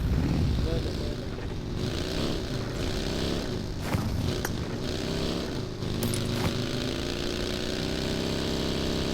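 A motorcycle engine in a mobile battle-royale video game, a steady droning hum with wavering pitch that runs the whole time at an even level, with other game sounds layered in.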